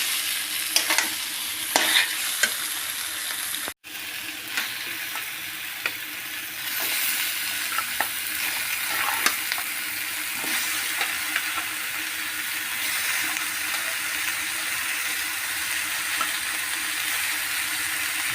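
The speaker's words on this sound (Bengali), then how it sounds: "আলুগুলো অল্প কষিয়ে নেই" Potatoes sauté in a hot pan, giving a steady, close sizzle and frying hiss, with occasional scrapes and taps from stirring and no one speaking.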